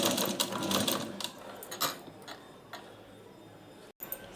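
Sewing machine running in short bursts while stitching piping onto a blouse neckline, a quick ticking mechanical whir that fades and stops near the end with a brief click.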